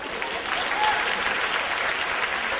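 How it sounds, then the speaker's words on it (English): A crowd of audience members clapping together at a motivational talk, dense steady applause filling the room for a couple of seconds with no speech over it. "Clap if you know what I'm talking about."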